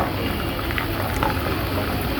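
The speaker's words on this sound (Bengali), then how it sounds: "ভাত ভাজা বলতে পারেন" Leftover rice fries in hot oil in a continuous close bubbling sizzle, steady and even, with no voices.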